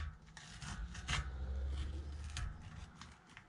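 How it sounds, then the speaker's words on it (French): Masking tape peeled off the freshly painted fuel tank of a Honda MTX 50cc motorcycle in a small garage, a close, continuous rasping rub lasting a few seconds with brief louder pulls, no talking. "On va retirer tout le scotch."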